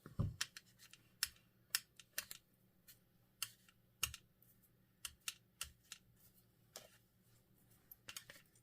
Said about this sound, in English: Maybe let's cut a little bit more off. Cut the borders.